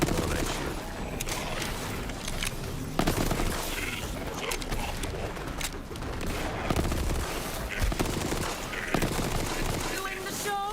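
Rapid gunfire from a gun in the video game Borderlands, continuous bursts of shots and explosive booms running through the whole stretch, loud and dense, with a voice talking over it at times.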